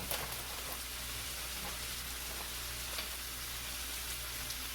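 Whole asparagus spears sizzling in a frying pan for a keto pork chop dinner, a steady soft crackle and hiss that stays even and fairly quiet throughout.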